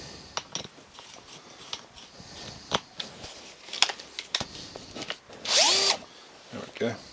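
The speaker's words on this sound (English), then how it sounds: "I'm going to put the drill bit into the cordless" Scattered clicks and taps, then a short high-pitched burst from a cordless drill with a 9mm bit drilling a lock plate near the end, with a smaller burst right after.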